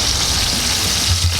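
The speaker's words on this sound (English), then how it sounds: "So we're gonna take the steak" Steaks sear on a hot cast iron pan with a steady, loud sizzle and hiss that holds even throughout.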